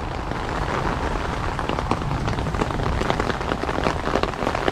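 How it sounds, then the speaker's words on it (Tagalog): Rain falls steadily on a yard garden of plants, vegetables and long beans, a dense, loud and even patter of drops that runs without a break and with no voices. "Today it's raining. Free water for our plants and vegetables."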